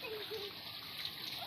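Children splash and play in water during a weekend outing after cleaning work, a faint, busy splatter of water with a little background voice.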